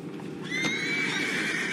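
A horse in the video game Red Dead Redemption 2 whinnies in a long, high, wavering call over a steady background, loud and fairly close.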